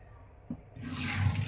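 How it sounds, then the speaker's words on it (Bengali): Boiled rice and its cooking water pour into a draining basket, a sudden rushing gush of water building over about a second, close up with no talking. "ঝুড়ির মধ্যে আমি ভাতটা ঝরাই নিলাম"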